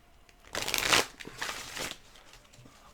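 A deck of oracle cards gets a quick hand shuffle: two short bursts of crisp papery riffling, the first louder, close up and quiet, with no talking.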